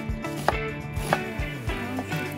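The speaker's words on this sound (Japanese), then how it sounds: "玉ねぎを薄切りにしていきます。" An onion is thinly sliced with a knife on a cutting board, with four or five distinct knife strokes thudding at a steady pace, close and clear, with no talking.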